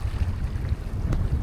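Strong wind buffeting a microphone while kayaking on the Missouri River at Hauser Reservoir, heard as a low, gusty rumble that swells and fades throughout, close and fairly loud, with no voices.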